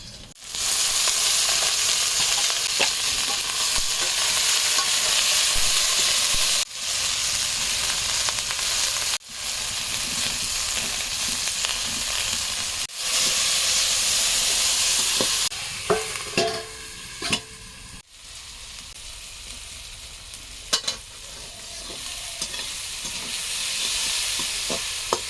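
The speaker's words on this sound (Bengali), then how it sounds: "আলু দিয়া কমলি শাকের ভাজি।" Kamli greens with potatoes fry in oil, giving a loud, dense sizzle that fills the first half, then settles to a quieter crackle with scattered stirring scrapes and taps.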